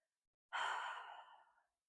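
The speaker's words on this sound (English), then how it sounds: "Take a deep breath here." One deep breath taken during a glutes and core workout, a single close, airy exhale that trails off over about a second, with silence before it.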